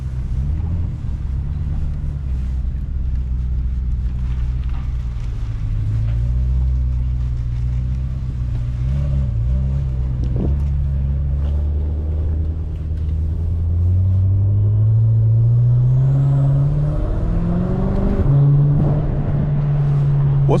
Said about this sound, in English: yo, the exhaust is mad loud.